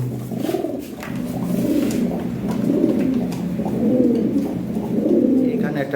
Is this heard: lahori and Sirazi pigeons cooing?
yes